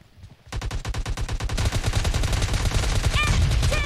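Rapid automatic gunfire in a shooter video game, starting abruptly after a brief quiet and continuing as loud, dense bursts of rhythmic shots with overlapping fire and a few high electronic chirps near the end.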